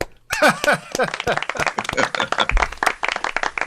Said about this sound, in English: let's give Don a round of applause, shall we?